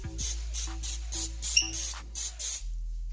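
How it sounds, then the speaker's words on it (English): Canola oil spray hisses onto a pan in a series of short, even bursts close by, with a low hum underneath. "So I'm gonna spray it with some canola oil."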